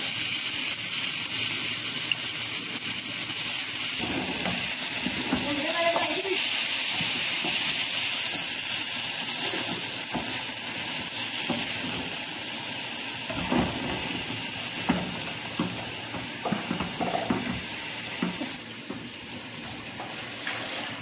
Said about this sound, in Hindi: चिकन का पानी खुश्क हो रहा है, थोड़ा सा पानी इसका और खुश्क हो जाए